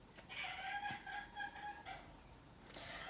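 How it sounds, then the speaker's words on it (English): Birds on a balcony, pigeons, with squeaky harmonic chirps and calls in a quick series of short bursts, fairly close and clear against a quiet indoor background, with no talking. "pigeons are on the balcony, and you can tell that by Molly's squeaking."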